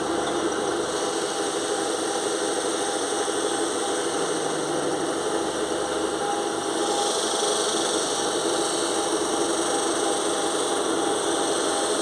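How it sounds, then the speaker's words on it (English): Stainless steel exhaust silencer being polished for a custom motorbike exhaust, heard as a steady, loud, continuous power-tool whir with a rough grinding hiss throughout, no talking. "So we're just polishing the stainless steel up."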